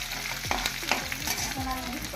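Green chili frying in a pan of oil for Bengali-style khichuri, with a steady close sizzle broken by repeated scraping stirs of a spatula against the pan.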